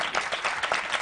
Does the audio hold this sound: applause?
yes